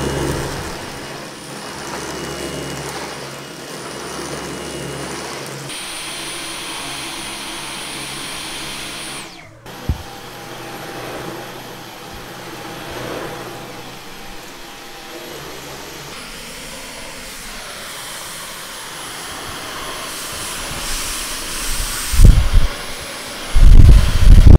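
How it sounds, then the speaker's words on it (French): A Dyson V11 cordless vacuum cleaner runs with a steady, loud, close whine that holds throughout. It cuts out briefly near the middle, its tone shifts in places, and a few louder bumps come at the end. "Et là, tu es prêt à aspirer ta table, à aspirer les canapés."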